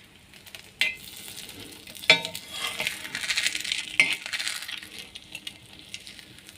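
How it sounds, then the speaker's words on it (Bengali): Slices of bread fry in a pan with a soft, uneven sizzle, punctuated by a few sharp clinks of a utensil against the pan, close and quiet without speech. "আমি এখন সাইডগুলো একটু ভেজে নেব"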